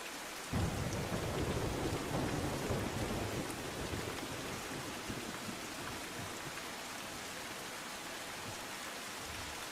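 Heavy monsoon downpour in Danta taluka, Banaskantha, north Gujarat: a dense, loud, steady roar of rain pounding surfaces, with a heavier surge near the start and a continuous wash of drops throughout.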